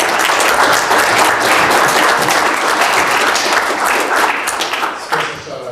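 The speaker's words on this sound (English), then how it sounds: "we can give a round of applause to everyone" An audience bursts into sustained applause, dense clapping that fills the space steadily and thins out toward the end.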